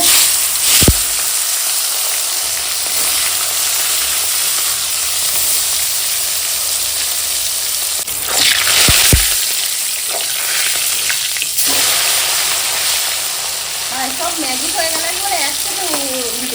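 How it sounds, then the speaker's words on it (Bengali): Turmeric- and salt-rubbed fish fry in hot oil on a gas stove, a loud, continuous crackling sizzle with occasional spatters and stirring, and a person speaks briefly near the end. "আর এখন এই মাছগুলো ভাজা হয়ে গেছে এখন তুলে নেব"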